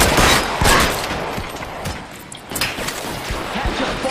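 Repeated gunshots ring out in a crime shootout in LA Noire on Xbox 360, loud close bursts of fire mixed with sharp cracks and thuds across the scene.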